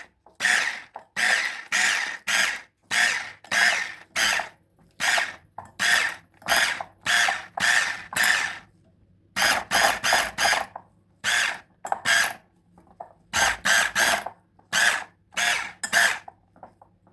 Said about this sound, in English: And now we're gonna beat the whipped cream.